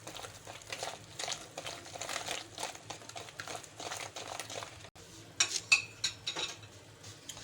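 Chocolate sponge cake batter being stirred in a bowl with a utensil, giving steady scraping and clinking strokes throughout, with sharper taps near the end and no talking.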